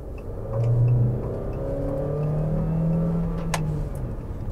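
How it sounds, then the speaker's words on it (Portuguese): A 2023 Jeep Renegade Longitude SUV accelerating hard, heard from inside the cabin: a steady, loud engine drone and rumble with rising tones, continuous throughout with no talking. "se você cravar o pé no acelerador, ele vai responder."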